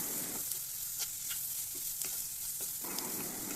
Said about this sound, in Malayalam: തക്കാളിയും കൂടി ചേർത്തതിന് ശേഷം ഇത് നന്നായിട്ടൊന്ന് വഴറ്റിയെടുക്കാം.